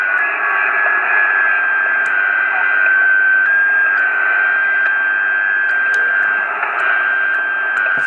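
A steady electronic beat tone from a Yaesu FT-101B radio being zero beat hums over a hiss of radio static, holding nearly constant in pitch for several seconds with faint clicks scattered through it.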